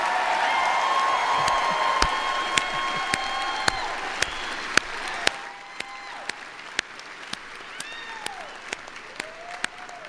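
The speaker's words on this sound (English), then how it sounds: "Such a well-deserved applause" Crowd applause for the graduating SUNY Oswego class of 2026 at a commencement ceremony, full and steady at first and then thinning, with individual sharp claps popping out.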